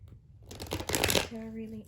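A brief flurry of tarot card shuffling, a rapid papery riffle that swells and then gives way to a faint steady tone at the end.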